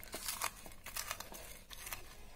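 Dried chilies are crushed by hand with onion and salt, giving a run of close, dry crinkling and crunching bursts in an irregular rhythm, fairly quiet and with no talking.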